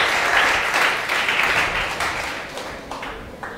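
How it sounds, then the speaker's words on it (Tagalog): A church congregation claps in a dense, steady burst that is loud at first and gradually thins and fades over a few seconds. "Mga may natututunan, pumalakpak ng the best kay Lord."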